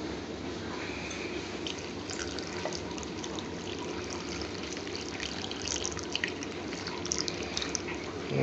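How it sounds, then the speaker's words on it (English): Just over a pint of water pours into a pan while making a restaurant-style Indian base gravy, a steady close trickle and splash with faint drips, no talking. "Now it's putting just over a pint of water."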